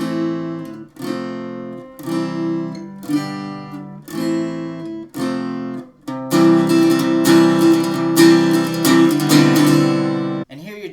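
Guitar part from just after the first chorus of a song: a few separate ringing chords with short gaps, then a faster run of dense, driving down strums, loud and close with no voices.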